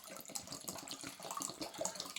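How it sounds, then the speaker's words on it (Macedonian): Water is poured into a pot to start making bozel (bozojna) juice, a faint, continuous splashing and trickling heard close by with no talk. "Ставамо вода овде."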